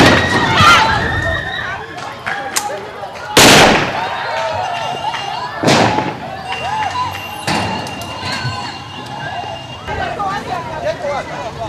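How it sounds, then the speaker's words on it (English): Gunfire cracks through Rukochi village in Kasese town as residents throng a court compound, several sharp loud bangs spaced irregularly over crowd noise and shouting. "Gunfire rocked Rukochi village in Kasese town"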